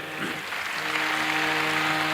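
An audience claps for a group of pakhawaj drummers at a live state-level performance in Trimbakeshwar, a steady, dense wash of applause that holds for the whole short stretch, with a sustained tone underneath.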